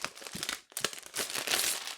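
Plastic packaging crinkling and rustling close up while a board game is unboxed, irregular crackly bursts with a brief pause midway, then louder continuous crumpling.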